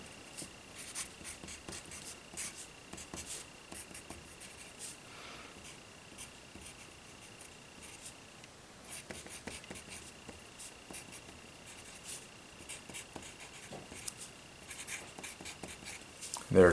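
A pen scratching across paper while working out a calculus handout, soft and faint with short strokes and pauses, continuing steadily with no one speaking.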